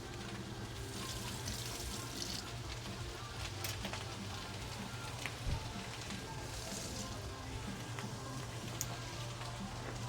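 Water poured into a cooking pot for curry, a steady running splash and hiss lasting throughout, fairly faint over a low background hum.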